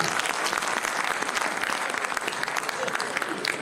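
Audience applause at a Hindi poetry recital, dense steady clapping from a crowd filling the whole stretch at even loudness, close and continuous without a break.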